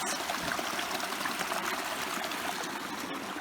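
Small stream trickling steadily at a trail water source during autumn backpacking on the Monadnock-Sunapee Greenway, a close, continuous babbling wash with no voices.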